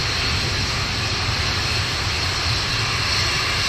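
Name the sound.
Atlas V rocket engines roaring during launch ascent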